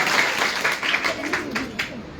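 Audience clapping at a school quiz event in Shimla, a dense patter of many hands going on throughout, fairly loud, with voices mixed in.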